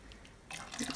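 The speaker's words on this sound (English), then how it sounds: "I'm just bringing it in and out of the water to try and get as much of the dye onto the yarn as possible" Yarn of superwash merino, tussah silk and stellina is dipped in and out of dye water, giving a brief faint slosh and a few soft drips close by.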